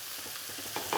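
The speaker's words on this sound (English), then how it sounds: "Just getting a nice sizzle around that meat before I pour the sauce in" Beef sizzles and crackles in a hot wok with a steady, soft hiss, swelling slightly louder toward the end; no voices.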